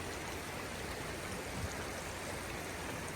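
A river flows beneath a footbridge on the Appalachian Trail as a faint, steady rushing hiss, distant and even throughout, with no talking.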